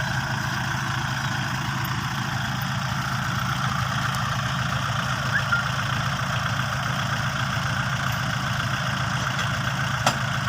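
A tractor's diesel engine idles continuously, a low even rumble with a faint knock, close by and unchanging throughout.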